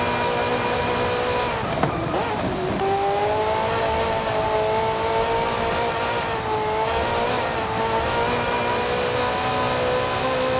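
Ferrari in Forza Horizon 5 with an engine pulling hard, its tone rising then holding and wavering, with a short burst of noise early on; fairly quiet and continuous.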